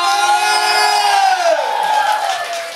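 A group of about 70 people cheers and whoops together after planting 500 trees, their loud, sustained voices rising and then falling away.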